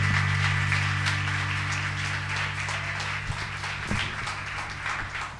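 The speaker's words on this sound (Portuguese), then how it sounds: "Vamos dar uma salva de palmas para Jesus" A church congregation applauds during a family celebration service, a broad patter of clapping over a steady low organ-like hum, with a few louder individual claps standing out and the applause easing slightly toward the end.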